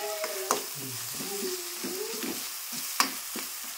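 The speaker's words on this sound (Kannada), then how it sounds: "ಈಗ ಈ ಖಾರ ಹಾಕೊಂಡ ಮೇಲೆ ಎಣ್ಣೆ ಒಳಗೆ ಮತ್ತೊಂದು ಸ್ವಲ್ಪ ಇದು ಫ್ರೈ ಆಗ" Chili powder frying in oil with turmeric for an aloo sagu: a steady close sizzle with two sharp clicks from stirring, and faint tonal voice-like sounds drifting underneath.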